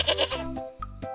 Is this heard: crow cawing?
no